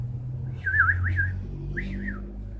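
A singer's voice imitates bird chirping in a performance, giving two high, warbling whistle-like phrases over a steady low musical backing.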